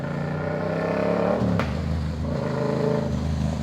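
A motorbike rides past on a street, a steady engine drone that swells and fades, with no talk over it.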